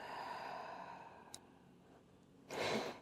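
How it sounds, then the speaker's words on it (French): A deep breath released through an open mouth during a yoga flow, a soft airy exhale that swells near the end, close and quiet. "Puis ouvre ta bouche et expire."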